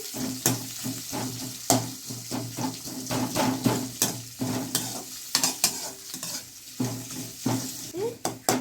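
Onion and potato frying in a pan, with repeated sharp scraping strikes of a stirring spoon against the metal over a continuous sizzle, close and fairly loud, with no voices.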